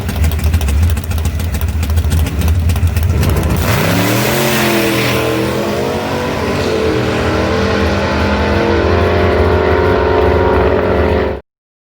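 A rear-engine dragster makes a pass on a drag strip, a loud, harsh engine roar with rapid pulsing that climbs in pitch through shifts, then holds a high scream before cutting off abruptly.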